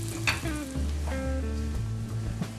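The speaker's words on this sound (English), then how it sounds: "And here's the eggplant. It's beginning to cook a bit." Eggplant frying in a pan for eggplant parmesan, giving a steady, close sizzle with bubbling crackle and a few clinks of a utensil against the pan, with no voices.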